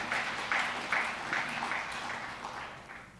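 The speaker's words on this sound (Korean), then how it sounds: "우리 박수 한번 전복 올려드리겠습니다." Congregation applause at a year-end church worship service, a broad wash of clapping with a few louder swells, steady then gradually fading over a few seconds.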